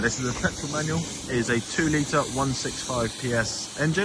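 Gusty outdoor wind hisses across the microphone near a white 2019 Mazda CX-5, a steady breathy noise beneath continuous nearby male speech.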